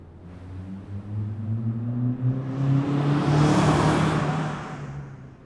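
A truck barrels past as a sound effect, its engine drone rising to a loud roaring rush, then fading as it moves away.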